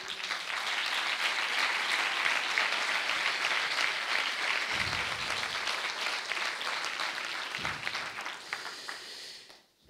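A crowd at a Spanish political gathering breaks into sustained, loud applause, a thick continuous roar of clapping that holds for several seconds before tapering off at the end.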